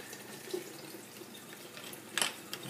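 Water runs and splashes while sand is rinsed for a small 5-gallon nano reef aquarium set in a retro stainless steel frame, a soft trickling flow with a brief louder splash near the end.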